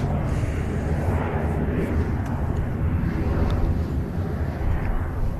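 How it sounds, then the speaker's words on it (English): A Cessna lands at Manchester Airport, heard as a steady broadband engine and wind roar from a distance. The roar holds at a constant level throughout, with no speech. "He's holding short for a Cessna coming in from Antwerp."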